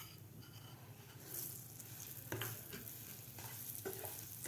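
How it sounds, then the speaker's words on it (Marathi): Semolina roasting in ghee in a pan as it is stirred, with a faint, steady low sizzle and occasional soft scrapes of the spoon. "आणखीन आपल्याला 4 ते 5 मिनिट हे रवा भाजून घ्यायचा आहे."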